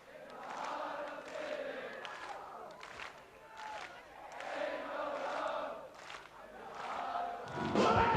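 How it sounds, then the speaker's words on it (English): A concert crowd at a 1983 show in Ludwigshafen, Germany, claps and sings along in swelling waves, a dense, roomy mass of voices that rises and falls over several seconds, with louder thumps near the end. "They're just clapping and everyone's singing along."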